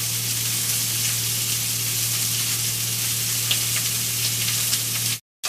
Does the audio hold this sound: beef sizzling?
yes